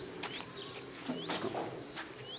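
Racing pigeons at a loft in Kartuzy-Żukowo give soft, faint cooing and fluttering calls during their return from a race, with scattered chirps and light wing noise in an outdoor setting.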